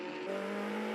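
Race car engine in Assetto Corsa leaving the pits on medium tyres, a steady, loud sustained tone that steps up in pitch partway through, with no talk over it.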